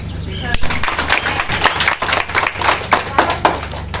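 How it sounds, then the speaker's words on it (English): Audience at an education program event applauding the director, loud crisp clapping of many hands with distinct sharp claps, continuing steadily under some voices. "A big round of applause for the director"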